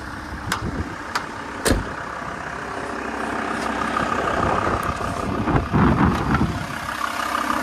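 A VW T4 Caravelle 2.5 TD (75 kW) diesel van engine idles steadily and smoothly, with a low continuous rumble and a few sharp clicks near the start.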